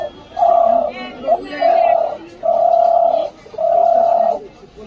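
A flute, likely a Katwa bamboo flute, imitates a dove's cooing: four sustained, clear mid-pitched notes with short gaps between them, played close and loud with faint breathy sounds in the pauses.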